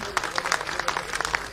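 Brief burst of applause from a crowd, many hands clapping in a dense patter with a few sharper claps standing out.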